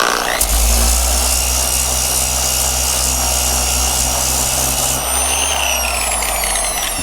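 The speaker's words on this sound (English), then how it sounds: "Probably some brown metal and they painted over it, but we gonna sand it down." Power sander grinding rust and paint off a Chevy Trailblazer body panel, a loud continuous whirring and rasping that runs without a break, its pitch shifting slightly partway through.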